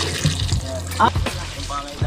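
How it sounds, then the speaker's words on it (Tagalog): Water runs from a repaired faucet in a steady splashing stream, with people talking nearby over it. "inayos natin yung gripo nila Palawan"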